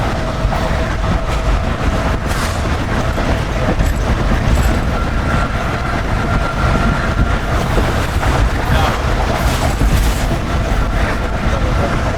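The Pak Business Express passenger train runs on rails from Karachi toward Lahore in a loud, steady rumble heard from on board, with rattling and faint wheel screeches but no clear clickety-clack rhythm, and no talking.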